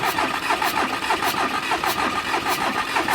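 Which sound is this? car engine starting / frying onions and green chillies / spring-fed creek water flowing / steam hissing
car engine starting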